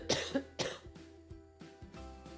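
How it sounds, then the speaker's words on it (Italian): Two sharp coughs close together, followed by a few quieter throat sounds, close and fairly faint. "Odio la tosse."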